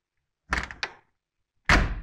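Lada Niva 2121 car door pushed shut: a short clattering thunk with a small second knock, then after a pause a louder, fuller slam, both close and alone.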